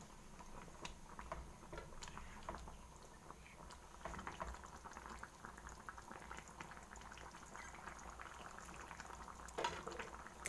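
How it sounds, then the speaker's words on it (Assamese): A fish and cauliflower curry simmers quietly in a pot after hot water is added, a soft, continuous bubbling with faint ticks and clinks, no voices. "ইয়াতে মই আৰু 1 কাপমান গৰম পানী দি দিম আৰু ইয়াক মই বৰ সাৱধানে এবাৰ লৰাই দিম।"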